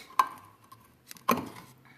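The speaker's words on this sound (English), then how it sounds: "If I could get my can opener to work here" Manual can opener working on a can of diced tomatoes in a kitchen: two sharp metallic clanks a second apart, with faint clicks between, close and fairly quiet, no talk.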